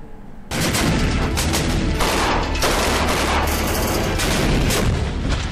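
Gunfire during a ceasefire violation on the Jammu and Kashmir border, in Rajouri, starts abruptly as a loud, dense barrage of overlapping shots and bursts that goes on without pause.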